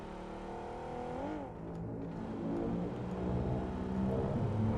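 A car engine in PUBG Mobile hums and whines steadily, pitch climbing as it accelerates, with a brief dip in the middle; fairly quiet, no voices.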